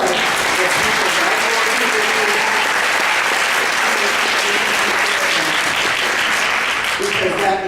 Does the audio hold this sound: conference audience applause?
yes